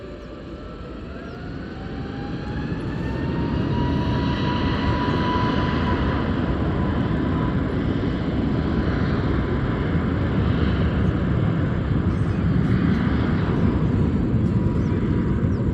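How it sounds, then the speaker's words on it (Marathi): An airplane's engine roar swells over the first few seconds, then holds as a steady loud rumbling drone with a slowly shifting whine, with no voices. "हे बघा तिथं आहे प्लेन."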